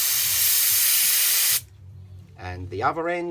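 A sustained, loud hiss of compressed air blows through a small mini quad engine part for about a second and a half, then stops abruptly before someone speaks briefly.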